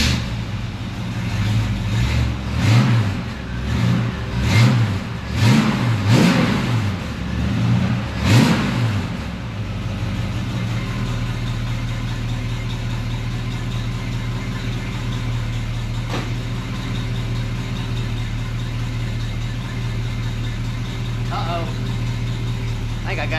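A 1976 Chevy Luv truck with a freshly installed exhaust and blocked-off mufflers starts and revs hard in several loud, rising bursts, then settles into a steady, rumbling idle for the rest of the time.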